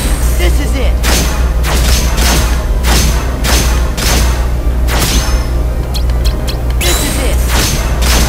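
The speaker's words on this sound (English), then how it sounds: "I just wanted you to hear the annoying Family Guy explosion" An explosion sound effect from the Family Guy game section plays inside Kingdom Hearts Re:Chain of Memories, repeated booming bursts in a rapid uneven series over continuous game music, loud throughout.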